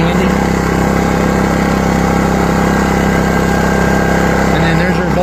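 An ACEUP 4000W portable inverter generator running steadily nearby, a loud even engine drone with a constant buzzing hum and no breaks, with a voice briefly heard over it.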